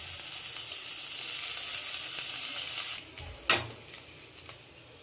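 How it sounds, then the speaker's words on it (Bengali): Ginger-garlic paste hits reddened fried onions for a chela fish dish with a strong, steady sizzle that drops off sharply partway through, then a few scattered spoon clanks against the pan. "এরপরে যে আদা রসুনটা সেটা করে রাখা আদা রসুন ওটা দিয়ে দেওয়া হবে"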